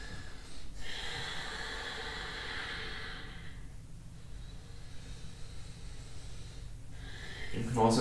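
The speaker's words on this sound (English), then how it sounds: "deep breathing into the abdomen" Deep abdominal breathing during a vinyasa yoga flow, slow long breaths heard close and soft, with two quiet pauses between them and a brief rustle at the end.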